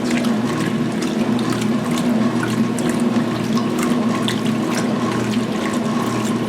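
A washing machine rinses a load of sheets, a continuous close rush of churning and splashing water over a low steady hum, with no talk.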